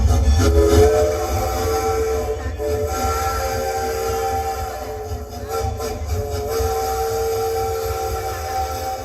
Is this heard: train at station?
yes